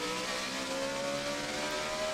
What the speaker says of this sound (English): you can almost hear the rhythm as he gets in and out of the throttle